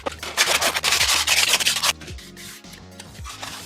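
Sandpaper scrubs a Boba Fett gauntlet piece in quick back-and-forth strokes, close and rasping for about two seconds, then continues as softer, slower rubbing.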